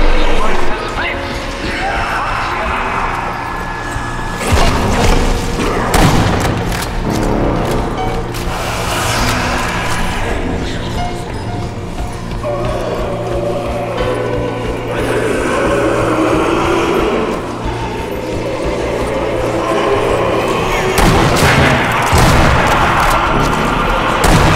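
Buildings crumbling and collapsing in the Sniper Elite Nazi Zombie Army 2 video game: a loud, continuous roar of rumbling debris and booming impacts, with a voice talking over parts of it.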